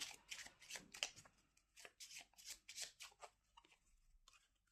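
A deck of cards for the board game Paleo is shuffled by hand, a quick run of close crisp riffling and flicking bursts with short gaps in between, in a quiet room.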